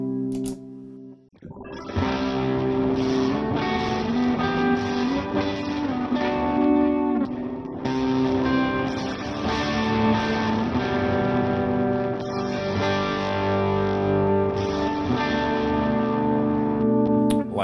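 An electric guitar played through a Stage 1 drive pedal on a mini pedalboard rings out in sustained, lightly distorted chords and held notes, loud and continuous with a short pause near the start, with no voices.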